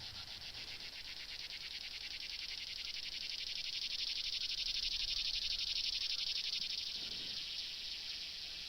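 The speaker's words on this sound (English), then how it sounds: "There's both cicadas." Cicadas in a Minecraft FTB modpack buzz without a break, a steady high-pitched pulsing drone that holds level and fills the scene throughout, with no voices.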